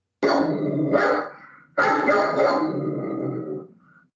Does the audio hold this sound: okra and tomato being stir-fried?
no